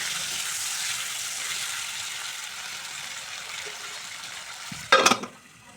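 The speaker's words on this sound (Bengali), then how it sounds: "খুব অল্প আঁচে আলুগুলোকেও ভাজবো।" Potatoes frying in oil over very low heat for Bengali khichuri, a steady soft sizzle running throughout, then a brief clatter of a utensil near the end before the frying quiets.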